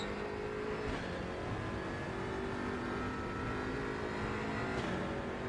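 A McLaren race car in the RaceRoom racing game at Monza, its engine a steady loud roar that swells as it passes close by, alone without talk.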